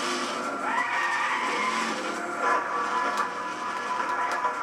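Car tires spin and skid in the racing game Gran Turismo 6 during a drag run, a loud continuous screech with engine roar, no speech.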